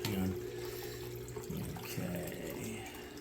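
Tap water runs into a gold mat cleanup machine, a steady wash of flowing water at moderate level with a few low gurgles and splashes, alone without talk.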